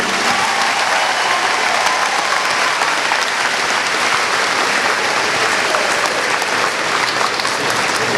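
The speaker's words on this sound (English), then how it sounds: "Let's give Coach Huff another big round of applause" A crowd gives Coach Huff a loud, sustained round of applause, thick continuous clapping from many people at close range, holding steady for several seconds without a break.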